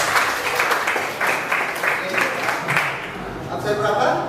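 Students applauding in a classroom, a dense clatter of many hands with rhythmic pulses, loud and close, fading into a quieter room tail near the end.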